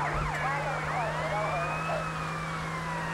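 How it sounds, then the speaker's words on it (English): A police car siren from the video game GTA: Vice City wails steadily and loudly with rising and falling sweeps over a constant engine hum, with no voice over it. "I like the police siren."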